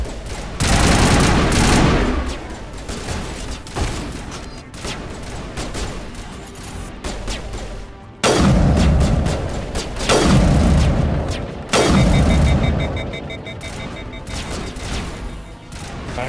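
Loud, sustained gunfire in the video game Mass Effect: dense bursts of automatic fire and heavy booms roll on almost continuously, with brief lulls between volleys.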